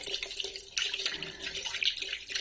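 Tap water running and splashing while a few dishes are washed in a small space, a close, steady stream with brief surges and clinks of handling.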